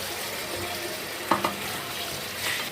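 Chicken stirred with nihari masala in a pan gives a soft, steady sizzle and scrape, broken by two quick metallic clinks of the spoon against the pan.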